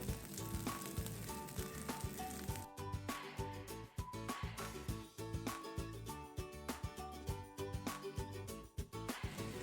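Egg-dipped, Nutella-filled French toast fries in a pan over medium-low flame, giving a soft, steady sizzle laced with faint clicking and tapping, quiet and continuous.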